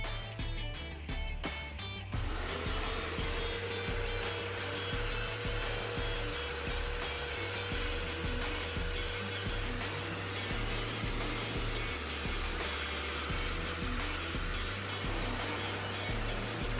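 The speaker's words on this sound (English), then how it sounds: "I don't think you guys want to hear a vacuum cleaner going" A vacuum cleaner extracting a car seat's upholstery during a Toyota Hilux interior restoration runs as a loud, steady whine and roar, with a brief burst of clatter at the start before settling into an even drone.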